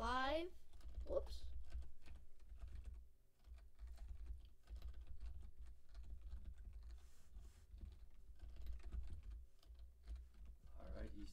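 Typing on a computer keyboard sounds as soft, rapid clicks that run almost continuously and quietly, with brief voices at the start and end.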